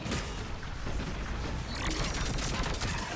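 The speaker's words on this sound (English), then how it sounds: "Give it some cover fire." Dense, continuous gunfire rattles in Mass Effect 3 as cover fire, a loud, close barrage of rapid shots and booms filling the whole moment without a pause.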